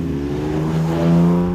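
A Maserati Merak's engine holds a steady low, humming drone that swells slightly toward the end, close and fairly loud with no talk over it.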